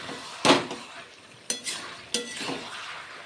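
Chilli cauliflower is stirred in a pan in three distinct scraping passes, each a close rasp of utensil against the pan with a light sizzle beneath.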